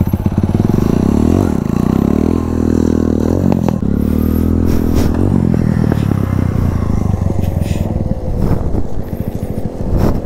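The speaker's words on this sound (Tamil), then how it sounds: "இறங்க விடாத அளவுக்கு த்ராட்டில் கொடு, நல்லா கிரு கிரு கிரு கிருன்னு கொடு" Motorcycle engine revved hard on the throttle while holding a wheelie, the loud close roar rising and falling in repeated surges with scraping and clatter mixed in.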